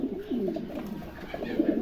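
Close, repeated low rolling coos come from moulting double-crested pigeons, a steady murmuring pattern from more than one bird.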